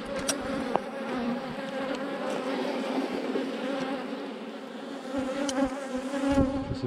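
Honeybees in a developing swarm hive buzz continuously and densely up close, a steady layered drone with occasional individual bees passing near.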